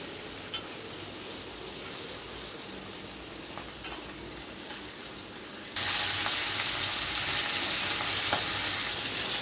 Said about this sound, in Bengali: এপিট ওপিট ভালো করে উল্টে পাল্টে ভেজে নেব, যাতে মাছের মাথার কাঁচা ভাবটা একেবারেই চলে যায়।